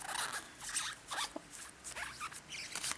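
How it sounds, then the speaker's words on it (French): Pokémon booster card packs are torn open roughly, the foil wrappers giving off quick, crinkly ripping sounds in short repeated bursts, close by and fairly quiet. "je suis en train de tous les déchiqueter les boosters par contre, je les ouvre vraiment super mal"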